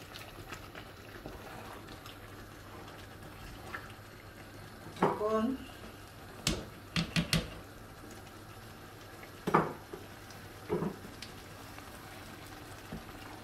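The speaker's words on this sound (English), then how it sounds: "I'll be adding in little by little so that I can stir it very well." Spinach stirred little by little into a pot of simmering soup, with a few soft, scattered clinks and scrapes over a quiet bubbling background.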